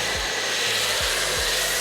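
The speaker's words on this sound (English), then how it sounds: "It's just a cheap, big box store, Greenworks pressure washer." A cheap Greenworks electric pressure washer from a big box store drones steadily at close range, its motor pulsing with rhythmic low surges during foam cannon washing.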